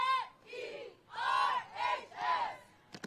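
A crowd at the L.A. City Section cheerleading championship at Birmingham High School yells in unison, five rhythmic chanted bursts with pauses between, loud and close, ending with a couple of sharp claps or stomps.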